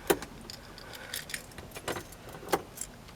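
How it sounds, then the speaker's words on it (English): Keys jingle and clink as a key slides into the ignition of a Datsun B210, several short metallic rattles close by and fairly quiet, with no talk. "Put the key in the ignition."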